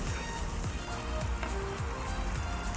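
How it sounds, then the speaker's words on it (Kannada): Tomatoes frying in a pan for egg kurma, a steady close sizzle with scattered spattering crackles running continuously throughout, no voices present. "ಟೊಮೊಟೊ ಹಾಕ್ತಿದ್ದೀನಿ ಟೊಮೊಟೊ ಕೂಡ ಸ್ವಲ್ಪ ಫ್ರೈ ಆಗಲಿ"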